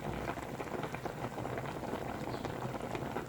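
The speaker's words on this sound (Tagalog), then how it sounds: "kumukulo na po yung ating paksiw na tilapia." A pot of paksiw na tilapia (fish stew) bubbling at a steady boil, a dense crackling simmer filling the clip from start to finish, close and continuous.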